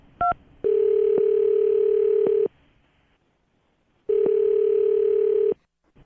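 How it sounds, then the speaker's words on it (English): A landline telephone gives a short dialing beep, then two long steady dial-type tones separated by a silent gap, loud and close with nothing else under them. "I'm going to dial her phone number right now"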